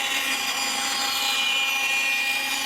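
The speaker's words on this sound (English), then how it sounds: "So I'm just going to cut it there. Just take it to the bandsaw." A steady, continuous high-pitched whine of a bandsaw running through wood, loud and close, with no pauses for the full length.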